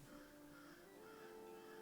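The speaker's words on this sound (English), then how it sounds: "there's like crows on top of my house, and they're so fucking loud" Crows cawing from the roof of a house, a steady, fairly loud stretch of calls with faint background hum, no talk.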